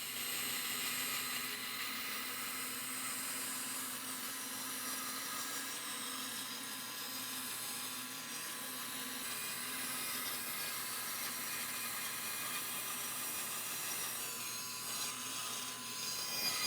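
A bandsaw cuts wood with a continuous, even, high-pitched whine and rasp that holds steady for the whole stretch, with no talking over it.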